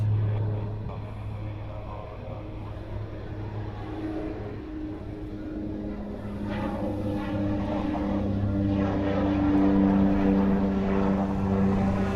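An Atlas Cargo airplane moves at Honolulu airport, a steady engine drone that grows louder over the second half and sits under a broad wash of airport noise.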